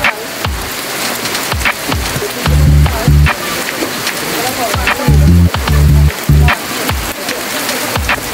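Heavy rain pours down on a solar panel worksite, a steady hiss of drops with sharper patters, while workers' voices and low rumbles come and go beneath it.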